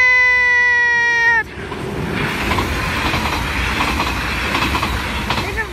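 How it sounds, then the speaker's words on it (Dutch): A train passes a railway crossing in Sint Joost: crossing bells ring briefly at first, then a loud rumbling roar of wagons and wheels rolls close by for several seconds. "Maar het moet over, want die trein zit binnen no time"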